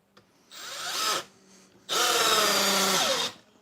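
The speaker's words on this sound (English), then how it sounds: "I'll put it on the drill setting." A cordless drill set to drill mode drives a screw into wood in two whirring bursts, a short one and then a longer, steady one with a brief pause between, loud and close with nothing else heard.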